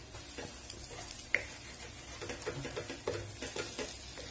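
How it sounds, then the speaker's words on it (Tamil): Eggs scrambled lightly in oil in a pan, a soft steady sizzle with faint spoon stirring and small clicks throughout, fairly quiet. "இந்த முட்டையை லேசா ஸ்கிராம்பிள் பண்ணி விட்டுருங்க"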